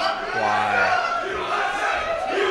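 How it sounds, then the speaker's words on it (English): A loud tournament crowd at a Super Smash Bros. Melee event roars and cheers without pause, shouts and yells blending into a dense, steady wall of noise. "This crowd, can you guys hear this? This is hype."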